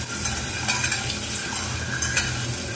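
Boiled eggs being fried in a pan, producing a dense, loud, continuous sizzle with faint metallic clinks of a utensil against the pan throughout.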